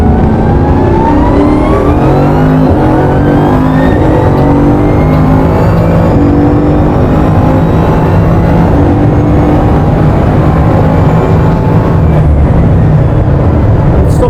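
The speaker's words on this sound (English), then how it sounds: "So we'll do a flying lap." A supercar engine accelerates hard on a flying lap, its loud, roaring note climbing steadily through the gears with rising harmonic pitch sweeps. Brief dips mark gear changes. The sound is close and continuous, with no talking.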